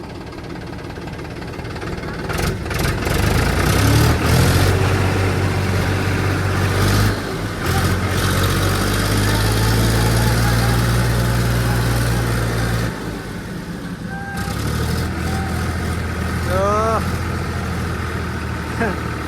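A tractor fitted with monster tyres, stuck, runs its engine hard at full throttle, a loud steady drone with a sustained low tone through most of the stretch before easing, with voices under it.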